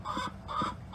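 A tiny bantam Belgian hen gives two short, close clucks in quick succession, followed by the start of a third, with no talk over them.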